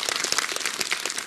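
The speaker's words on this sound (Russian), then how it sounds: "Аплодисменты бурные!" Audience applause at a brass band's annual concert, a dense burst of many hands clapping together, steady and fairly loud throughout with no voices.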